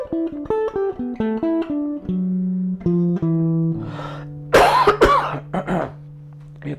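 A person coughs a few times in harsh, close bursts after a run of plucked stringed-instrument notes, with the notes ringing on softly underneath.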